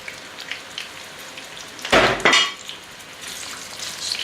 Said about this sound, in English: leave them frying like that for maybe 5-10 minutes